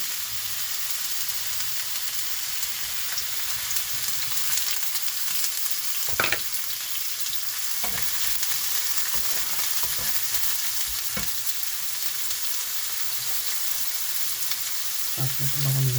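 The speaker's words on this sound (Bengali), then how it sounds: "আজকে পাক করব করলা ভাজি" Bitter gourd (karela bhaji) frying in a pan, a steady sizzle running throughout with occasional stirring scrapes and clinks of a utensil, close and even.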